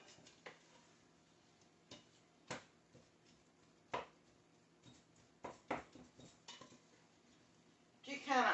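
Hamburger vegetable soup with bouillon being stirred in a pot: scattered light clinks and taps of a utensil against the pot in an uneven rhythm, fairly faint, with a person talking.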